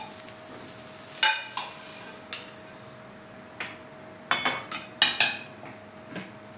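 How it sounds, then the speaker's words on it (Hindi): Masala spices frying in a pan, the same pan used to fry vegetables for a mustard-based dish: soft sizzling with scattered clinks and scrapes of a utensil against the pan, moderately close and fairly quiet. "मसाला भूनेंगे।"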